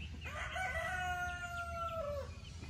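A rooster crows once, a drawn-out cock-a-doodle-doo at moderate distance, with faint farmyard noise around it.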